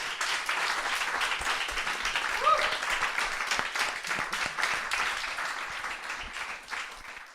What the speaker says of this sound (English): giving Joe a warm round of applause to say thanks very much